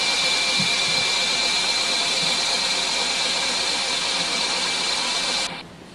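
A tube corrugating machine running slowly at 500 RPM gives off a loud, continuous hissing mechanical drone that holds steady for several seconds, then abruptly drops away to a quieter hum.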